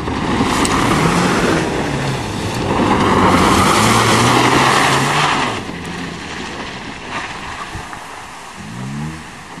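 An automatic Chevrolet Blazer straining up a steep farm hill, a loud nearby engine drone that swells then eases off as the revs rise and fall, with rough rumbling over the terrain.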